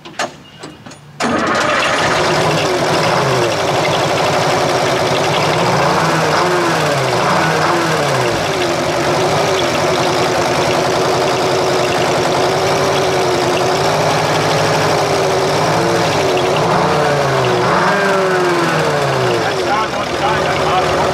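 A Nissan Diesel UD5 two-stroke engine cranks and catches, then runs loud and steady at idle for a long stretch, its uneven pitch wavering slightly, while people talk briefly over it.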